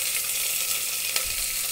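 Onion and tempering seeds sizzle in hot oil in a pan for a fenugreek-leaf and moong dal dish, a steady, dense crackle with no voices.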